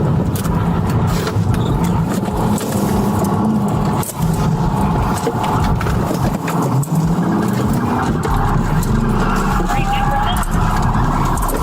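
A police cruiser speeding at around 100 miles per hour in pursuit of a stolen Dodge, its engine and road roar droning steadily and loudly throughout, with radio-style voices talking over it.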